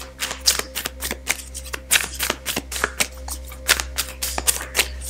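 Yogic Path oracle cards are shuffled by hand, giving a steady run of crisp riffling flutters and soft taps close by, over a constant low hum and with no talking.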